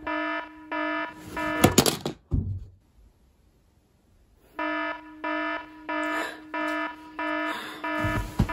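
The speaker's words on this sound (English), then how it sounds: "I shoot my alarm too." An alarm clock rings in loud, steady bursts of harmonic beeping, then stops abruptly and falls silent for about two seconds before the same pulsed beeping starts up again.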